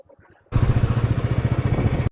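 A motorcycle engine starts abruptly and settles into a loud, steady, throbbing idle close by, after a moment of faint background noise, at the start of a Spiti Valley ride.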